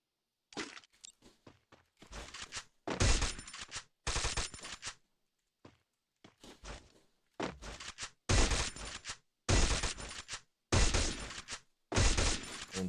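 Bursts of rapid automatic gunfire from two guns fired together in a mobile battle-royale shooter game, loud and close, coming in repeated sharp volleys separated by short pauses, with no talking.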